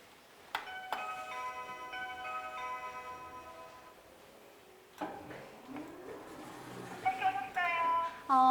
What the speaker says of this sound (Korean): 그럼 초인종 한번 눌러볼까요?